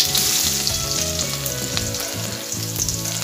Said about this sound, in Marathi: कांदा व्यवस्थित फोडणीमध्ये भाजून घ्यायचा आहे